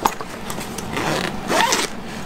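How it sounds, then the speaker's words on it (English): Zipper on the large mesh pocket of a Maxpedition Vulture II get-home pack, a continuous close rasping pull lasting about two seconds, heard alone. "There's a big zipper pocket with mesh."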